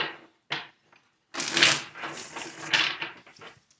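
Tarot cards are shuffled close up in a few short riffling bursts separated by pauses, ending in a longer rustling, slapping run of cards.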